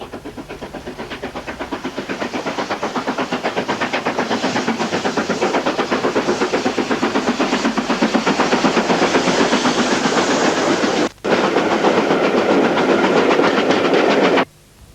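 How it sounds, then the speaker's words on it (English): Steam locomotive 5305 working hard up a gradient on slippery rails at Horton in Ribblesdale on the Settle & Carlisle line, rapid loud exhaust beats running steadily and building, with a brief gap before it cuts off sharply. "At Horton in Ribblesdale, 5305 was working hard on slippery rails,"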